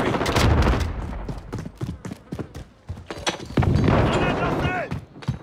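Rapid bursts of automatic gunfire from a Modern Warfare 2019 firefight crack loudly and repeatedly, with sharp individual shots spaced through the clip and a sustained heavier volley near the end.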